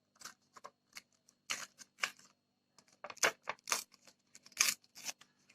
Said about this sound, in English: Now tear it into small pieces like this.